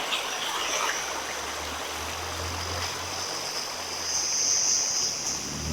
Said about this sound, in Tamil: போகிற வழியிலேயே அப்படியே தண்ணி அழகாக பாஞ்சிட்ருக்கு அந்த சவுண்டு கேட்கும்னு நினைக்கிறேன்